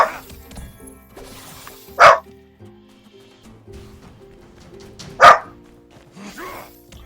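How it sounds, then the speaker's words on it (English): A dog in the farming game My Time at Sandrock gives two sharp, loud barks a few seconds apart over soft background game music, with no talking. "You're in a very barky mood."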